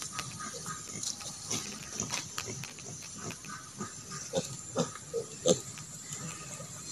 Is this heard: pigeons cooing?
no